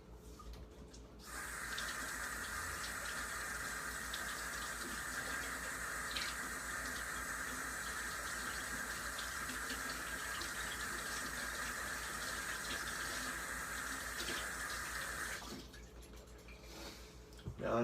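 A sticky pizza cutter is rinsed under a running kitchen tap, a steady close hiss of flowing water lasting about fifteen seconds with faint clinks, then the stream stops and handling noises follow.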